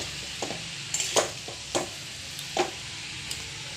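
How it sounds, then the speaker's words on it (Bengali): Egg chow mein is stirred in a pan, a quiet background sizzle broken by a handful of sharp spatula scrapes and clacks at irregular intervals. "চাউটা নাড়তে থাকবো।"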